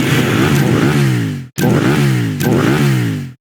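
A motorcycle engine in the audio game Cyclepath revs loudly in three back-to-back bursts, its pitch sweeping up and down. The second and third bursts follow sharp cutoffs, and no voice is heard.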